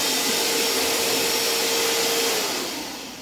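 Electric air pump for a camping mattress running with a loud, steady blowing whine, close up, then easing down and fading near the end; no talking.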